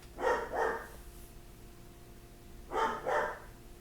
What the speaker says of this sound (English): There's a husky walking around outside in front of our house, so he won't stop barking.